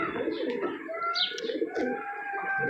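Large racer pigeons coo and murmur steadily nearby, soft throaty calls overlapping with a few brief chirps over a constant background hum.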